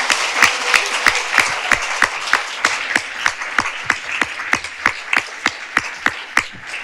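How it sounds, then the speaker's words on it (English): An audience at a literary event applauds debut novelists, with a steady round of clapping that holds an even rhythm for about seven seconds and has no talk over it. "let's give a final round of applause to our writers"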